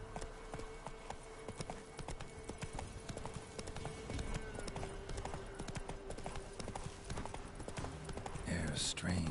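Roach the horse gallops in The Witcher 3, with rapid, steady clip-clop hoofbeats on the ground throughout, close and clear, and a brief snort or whinny near the end.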